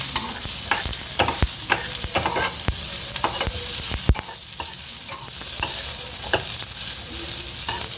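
Onions for masala dosa fry in a pan, a continuous close sizzle punctuated by frequent sharp clacks and scrapes of a spatula stirring, with no one talking.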